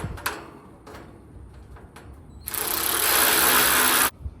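A power tool removing small 8mm bolts from an AC unit during coil cleaning: a few short handling clicks and knocks, then a loud, close, steady whir running for about a second and a half before cutting off abruptly.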